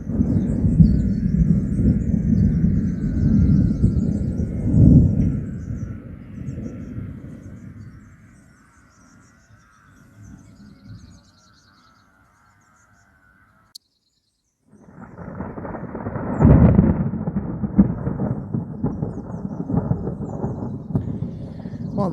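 Deep rolling thunder rumbles loudly nearby, fades to near silence, then a second heavy roll builds and lingers.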